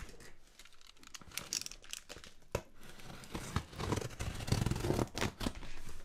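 Packaging for a Rode microphone is handled and opened up close: quiet, uneven plastic crinkling and tearing with sharp little snaps and rustles, no talking.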